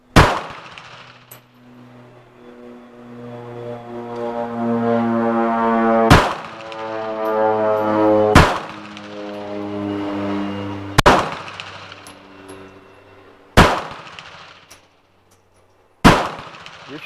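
Six sharp gunshots from a .380 pistol crack out at irregular intervals during shooting practice, each loud and close with a short ringing tail, while voices talk quietly between shots.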